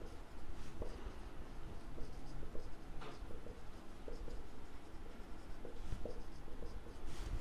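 Chalk or marker writing an accounting entry on a board for a 12th standard commerce lesson, soft steady scratching and tapping strokes heard up close, with no talking.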